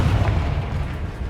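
The Confringo fire spell from the game Hogwarts Legacy explodes in a short, loud, dense blast that rumbles thickly through the low end and fills the whole brief moment.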